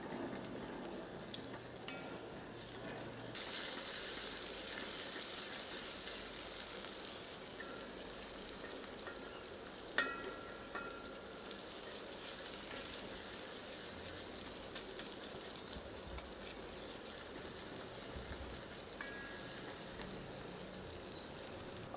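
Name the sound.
ginger, garlic and green chili frying on medium heat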